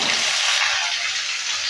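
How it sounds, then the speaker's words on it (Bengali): Jackfruit pieces fry in a pan with a steady, close hiss of oil, a short unbroken sizzle with no voices. "কাঁঠালটাকেও হালকা একটু ভেজে নেব"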